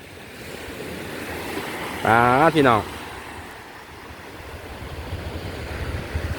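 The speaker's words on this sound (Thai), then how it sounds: "วันนี้เน้นเสียงน้ำทะเลนะครับทุกคน" Sea waves wash steadily onto a secluded beach at Thung Sang Bay in Pathio, Chumphon, Thailand, as a constant broad roar with wind noise on the microphone. Someone speaks briefly and loudly partway through.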